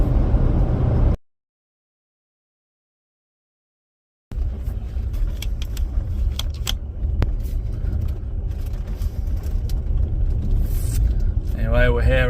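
A car towing a small boat on a homemade welded trailer drives slowly down onto a lakeside campsite in the Lake District, with a low rumbling engine and road noise, a brief silent gap, and crunching and rattling close by.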